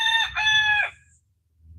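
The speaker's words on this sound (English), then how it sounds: "They crow." A Silkie rooster gives one short crow, a clear two-part call lasting under a second, fairly close, followed by quiet.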